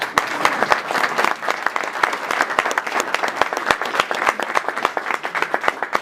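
A crowd applauds steadily and fairly close for Laura, the speaker's wife, at a public talk, dense clapping running the whole stretch with no voices over it.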